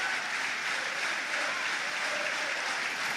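Home supporters in a football stadium at a Luton Town versus Leeds United match applaud in a broad, continuous wash of clapping that fills the ground evenly without pause.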